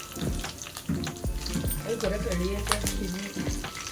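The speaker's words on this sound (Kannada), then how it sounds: "ಎಣ್ಣೆ ಫಸ್ಟ್ ಹಾಕ್ಬಿಟ್ಟು ಕಡಲೆಬೇಳೆ, ಸಾಸಿವೆ ಮತ್ತು ಒಣಮೆಣ್ಸಿನ್ಕಾಯಿ ಹಾಕಿ ಚೆನ್ನಾಗಿ ಹುರ್ಕೋಬೇಕು" Chana dal, mustard seeds and dried chillies frying in hot oil for a tempering, a steady close sizzle with small pops and crackles and some clatter of stirring.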